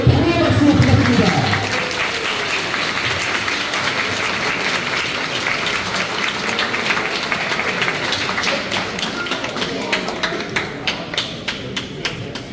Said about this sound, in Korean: 멋지게 싸우는 두 선수에게 다시 한번 경의의 박수 부탁드립니다